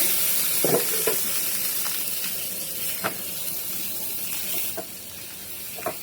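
Bitter gourd slices fry in a pan with a soft, continuous sizzle, broken by a few light scrapes and clinks as the pieces are stirred.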